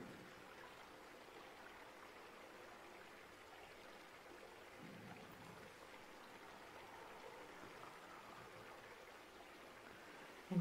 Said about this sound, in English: you notice your chest rising and falling with the rhythm of the water